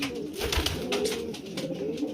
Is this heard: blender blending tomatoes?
no